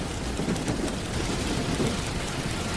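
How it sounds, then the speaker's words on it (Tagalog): Heavy rain pours down steadily and loudly, with a deep thunder rumble rolling beneath the downpour. No one speaks. "Masyadong malakas ang ulan."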